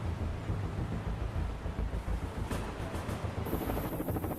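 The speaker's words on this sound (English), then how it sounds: "The helos of HMX appear on the horizon." HMX presidential helicopters approach the Wall Street heliport. Their rotors make a steady, heavy low rumble with a broadband wash, far off and continuous, and a thin high whine comes in near the end.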